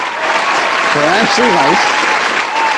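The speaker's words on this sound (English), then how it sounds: "huge round of applause for" A studio audience applauds steadily at an interview show while a voice speaks over the clapping partway through.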